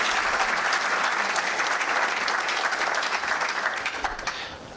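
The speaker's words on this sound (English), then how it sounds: "Another round of applause." Audience applause at an annual memorial lecture, a dense, steady clapping that fills the room at close range and holds for several seconds before tapering slightly at the end.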